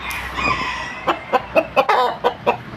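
A Burmese-type gamecock clucks in a rapid run of about seven short, sharp calls, preceded by a drawn-out crowing call, close and fairly loud.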